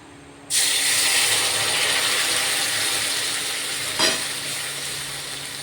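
A spice paste hits hot oil with a sudden loud sizzle that stays steady and close, frying continuously alone, with one brief clink partway through.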